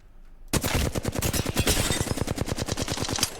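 Flatline assault rifle fire in Apex Legends Season 13 starts abruptly after a brief quiet, then runs as one loud, sustained full-auto burst of rapid, evenly spaced shots lasting about three seconds.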